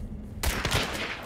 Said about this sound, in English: I'm getting shot from the side, bro.